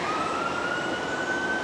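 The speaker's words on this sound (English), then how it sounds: "sorry about the siren." A steady wailing siren sounds at a distance, holding a high tone over a constant background hum.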